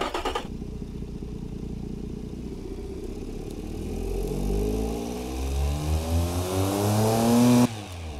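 An engine on a test bench in the car-building game Automation revs up steadily and loud, climbing in pitch for several seconds, then cuts off abruptly near the end.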